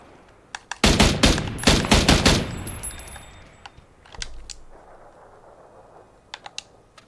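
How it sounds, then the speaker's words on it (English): Sniper gunfire in the PUBG video game: a burst of loud, sharp shots packed into about a second and a half, then a few isolated distant cracks and thuds, with a faint tail of ambient noise. "Oh, who's sniping at me?"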